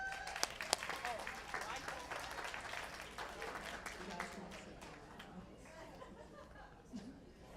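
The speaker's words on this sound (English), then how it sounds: "look around at the people who have shaped you, motivated you, and guided you, and give them a round of applause." Graduation audience at a City Academy sixth-grade ceremony applauding, a broad, steady wash of clapping with scattered laughter and chatter mixed in, fading gradually over several seconds.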